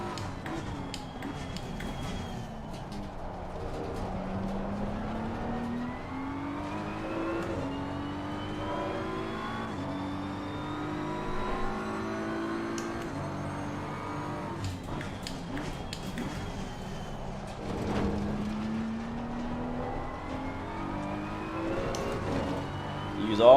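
GT race cars in Assetto Corsa Competizione scream through repeated upshifts and downshifts, engine pitch rising and falling steadily over a long stretch of track, with faint talk mixed in.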